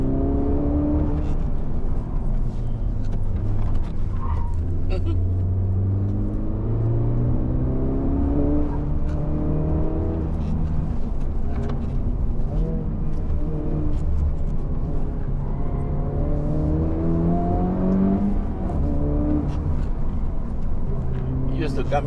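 Honda Civic Type R FL5 driving on a winding mountain road, its engine humming steadily with rising and falling pitch as it accelerates and shifts, heard from inside the car while a person talks over it.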